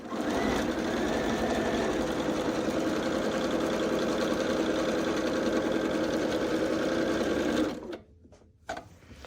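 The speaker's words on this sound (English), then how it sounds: "And just simply sew it up." A sewing machine runs steadily and close while stitching rows of pinwheel blocks for a queen-size quilt, a constant motorized hum that stops abruptly near the end, followed by a few faint handling noises.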